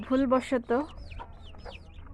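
A hen clucks in short harmonic bursts near the microphone, followed by thin, high chick peeps scattered through the rest of the clip.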